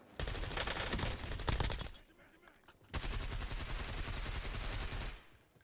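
Heavy automatic gunfire from a Call of Duty Warzone match, loud, sustained bursts that break off for about a second, then resume as another long rattling volley.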